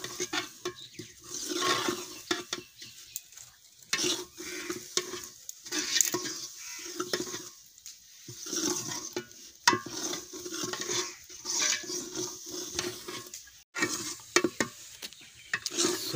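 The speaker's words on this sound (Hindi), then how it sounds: "सूजी तकरीबन घी में पक जाएगी अच्छी तरीके से" Semolina roasting in ghee in a pan, stirred continuously with a spoon, producing a long run of soft, rhythmic scraping and shuffling strokes over a faint sizzle, fairly quiet and close.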